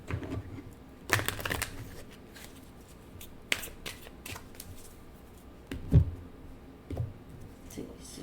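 Cards being shuffled for a card reading, giving soft riffling and flicking bursts with scattered taps and rustles at close range, no talking.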